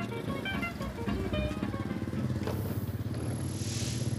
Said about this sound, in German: Wenigstens sein altes Motorrad ist ihm treu geblieben.